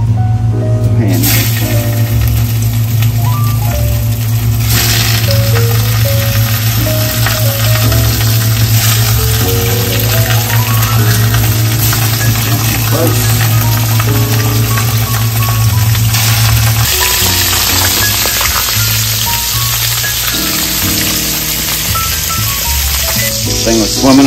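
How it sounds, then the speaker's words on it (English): Fresh deep-sea fish caught off Aruba fry in a hot pan, giving a loud, steady sizzle throughout with occasional stirring and clatter, while people talk over it. "We're gonna start throwing these into the pan."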